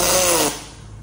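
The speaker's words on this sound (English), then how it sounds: "Right, now we weld it out." Aluminium parts being welded in a fabrication jig: a loud, steady buzzing hiss for about half a second, then cutting off into quieter room noise.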